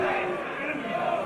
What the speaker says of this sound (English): You hear the crowd once again very much pro El Patron